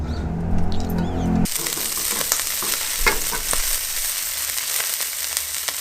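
A little oil sizzles and crackles steadily in a pan, close and fairly loud, with scattered pops and faint scrapes over a continuous frying hiss.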